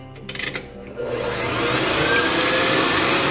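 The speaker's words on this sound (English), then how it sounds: "you can use a handheld mixer for this with the whisk attachment" A handheld mixer with a whisk attachment runs on high, whipping chocolate cream pie filling in a bowl; a few quick clicks and knocks lead into a loud, steady, close motor whir.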